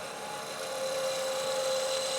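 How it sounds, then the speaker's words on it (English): A skew chisel cuts a spinning 7 mm wooden pen blank on a lathe, giving a continuous hissing, raspy scrape with a steady whine running underneath, loud and close, with no talking. "Skew chisel's nice because it leaves a smoother surface and less rough sanding that has to be done"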